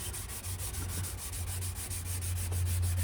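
Steady rhythmic sanding strokes rub across a hazy plastic headlight lens, an even scratchy swishing repeating about four times a second, close and fairly quiet with no talking.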